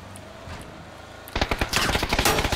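Rapid bursts of automatic gunfire erupt after a quiet start, loud and close, rattling in quick uneven volleys from a machine gun in PUBG.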